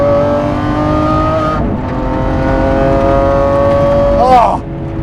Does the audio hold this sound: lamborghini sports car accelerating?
yes